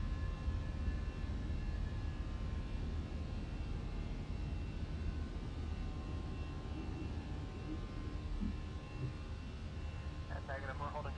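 Twin Cessna climbing after takeoff in Microsoft Flight Simulator 2020 with the gear coming up, a steady, loud engine drone filling the whole stretch without a break.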